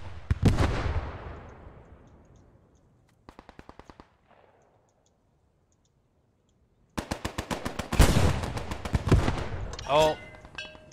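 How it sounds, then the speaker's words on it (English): Cannon and gunfire in the Post Scriptum video game on a defended map, with a loud blast at the start that decays, a brief rapid burst of shots, a quiet gap, then a long stretch of heavy, rapid gunfire and explosions. "Oh, they're doing damage with that cannon."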